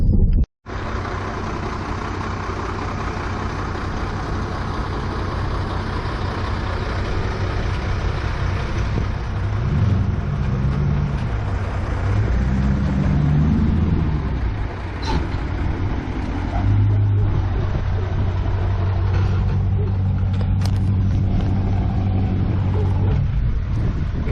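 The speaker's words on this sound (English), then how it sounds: "So there's the transport truck." A large transport truck arriving to haul cars rumbles nearby, its engine revving and shifting with a hiss of air brakes, a continuous heavy drone throughout.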